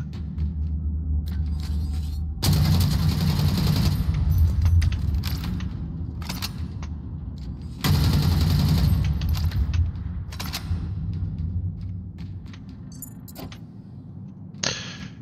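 A vehicle turret fires in the shooter game Dust 514 in two long, loud, roaring bursts of sustained fire over a constant engine-like rumble, each trailing off before a final short mechanical clack.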